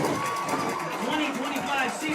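A high school football crowd at Winters Mill applauds near the end of a game, a moderate wash of clapping and cheering with a commentator talking over it.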